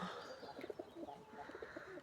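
Soft, low pigeon coos from a flock of about 40 pigeons, repeating in a gentle rhythm, faint and somewhat distant, with light background ambience.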